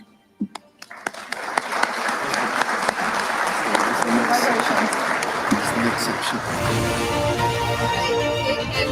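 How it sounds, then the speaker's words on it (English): Applause from an awards ceremony audience, starting with a few scattered claps that quickly swell into sustained, even clapping from a large crowd, tapering slightly near the end. "Applause for everyone here."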